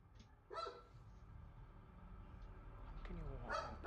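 A dog gives two short barks, one near the start and another toward the end, heard from a little distance over a low outdoor background rumble.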